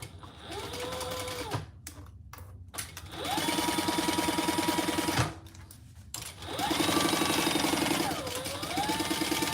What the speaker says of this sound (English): So we're just going to sew across the bottom